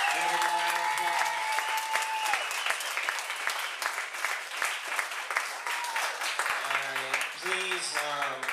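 A crowd at a Laugh for a Change comedy benefit show gives a sustained round of applause, steady clapping filling the room with music or voices briefly audible at the start and end.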